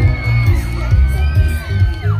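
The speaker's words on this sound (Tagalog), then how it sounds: "pwede po bang humingi ng isang malakas na palakpakan na may sigawan?" Loud crowd cheering, whooping and yelling at an outdoor land float parade during a coconut rice-cake festival, with a dense, continuous roar of voices and shouts rising and falling throughout.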